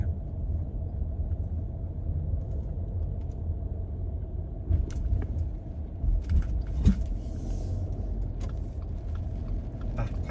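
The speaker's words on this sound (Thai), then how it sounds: "อันนี้ก็เป็นถนนด้านหน้าอาคารที่พักผู้โดยสาร" Road traffic passes in front of the Udon Thani airport passenger terminal as a continuous low rumble of car engines, with faint clicks and small clatters scattered over the steady hum.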